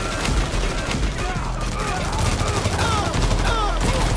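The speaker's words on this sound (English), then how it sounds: "my teammates decided to start shooting" Teammates' gunfire in the video game Payday 3, dense overlapping bursts of shots running continuously and loud, with a voice talking faintly underneath.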